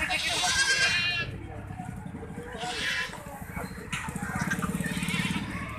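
A Sahiwal-breed milk goat bleats at a busy livestock market, its wavering cries rising over a crowd murmur, with people talking nearby throughout.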